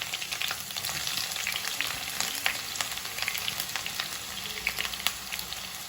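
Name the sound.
curry leaves added to hot oil, frying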